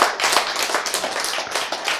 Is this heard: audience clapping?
yes